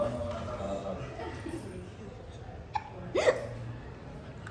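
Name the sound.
hiccups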